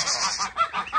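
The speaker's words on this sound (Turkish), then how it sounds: "Hindiler, kazlar, tavuklar." Geese honk loudly and close together in a rapid run of nasal calls on a village farm, kept among turkeys and chickens, with no talk.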